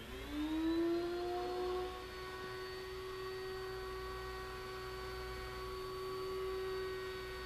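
A router spins steadily at high speed while its bit cuts a wooden blank that is taped to an offset pattern. A loud, sustained whine with harmonic overtones rises at the start, then settles into a constant drone.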